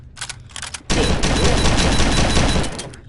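An AK-47 shotgun fires in a video game: a few short sharp shots, then a dense, loud burst of rapid fire that holds for about two seconds before tailing off.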